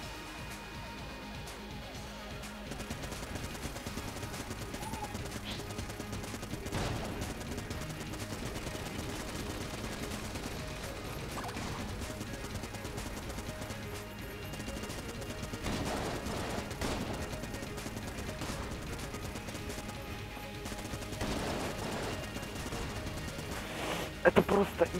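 Rapid gunfire from the video game Enter the Gungeon, with steady volleys of shots and small pops, mixed with game music and occasional talk.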